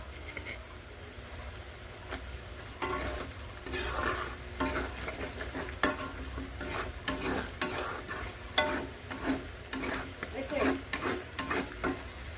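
Tomatoes are tipped into a pan of frying taro stolons and stirred in, bringing a continuous sizzle broken by repeated scraping and clattering spoon-on-pan strokes, close and fairly loud, with faint voice in the background.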